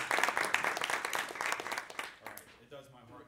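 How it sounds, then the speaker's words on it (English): An audience at a saxophone master class workshop claps for a player, dense applause that fades out over a few seconds before a voice begins speaking. "Can we applaud for him?"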